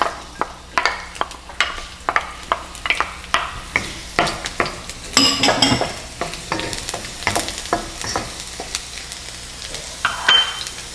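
Garlic frying in cooking oil in a pan for pork chao fan, with a sputtering sizzle and a busy run of spatula clacks and scrapes against the pan, loud and close, with no talking.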